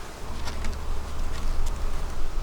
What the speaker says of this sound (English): we have a ton of bees in this hive